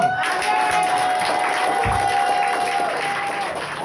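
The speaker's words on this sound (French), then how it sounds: "je demande à tout le monde ce matin d'acclamer pour toutes les mamans" A church congregation cheers and applauds for mothers during a morning service, a loud sustained roar of clapping and shouting voices that fills the room from start to finish.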